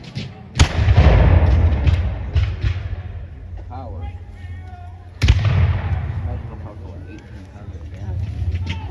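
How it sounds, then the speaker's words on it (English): At a battle reenactment, two loud musket or cannon volleys boom a few seconds apart. Each rolls out into a long echoing rumble, with scattered shots and a voice talking between them. "They're going to put some flanking fire into what's left of Webster's 33rd Regiment."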